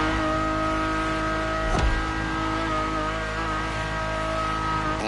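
A car engine in the racing game The Crew Motorfest hums at a steady, loud, sustained drone heard from the cockpit, with one brief sharper burst partway through.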